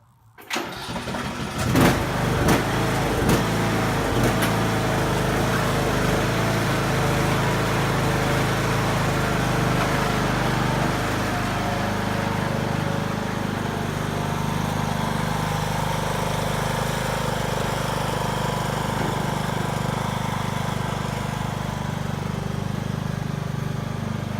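A lawn tractor engine cranks and catches, then runs at a steady, loud, close-up idle for over twenty seconds with no speech.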